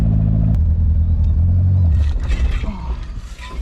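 A 1971 Toyota Celica with a manual transmission revs as gas is applied, a loud low rumbling engine note that swells then drops away, with a brief voice over it near the start.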